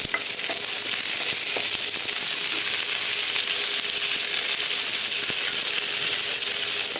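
Cumin seeds, curry leaves and dried red chilies sizzling in hot oil, a steady bright hiss with occasional small pops, close and continuous with no talking.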